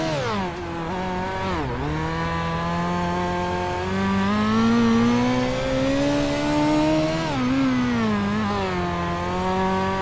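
A high-revving race car engine in the sim racing game iRacing drones steadily, pitch climbing and dipping as the throttle is worked, with a sharp drop near two seconds and again around seven.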